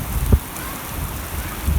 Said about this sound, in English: This storm came out of like literally nowhere